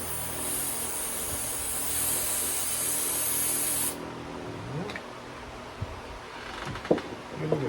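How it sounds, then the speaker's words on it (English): Carburetor cleaner sprayed onto the carburetor of a Husqvarna 346 chainsaw, a steady close hiss lasting about four seconds, followed by faint handling clicks and light taps. "Spray this thing with a little carburetor cleaner"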